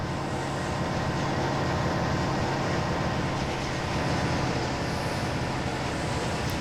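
A train rolling along in the railway simulator Trainz: A New Era, giving a steady, dense rumble with rhythmic wheel clatter that holds at an even, loud level throughout with no talking.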